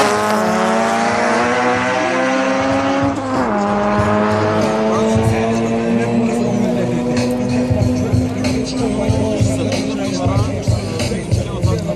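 Two Honda Civic race cars competing side by side, engines screaming loud and close through rising gear notes, a shift around the middle, with tire squeal and an announcer's voice over the racing.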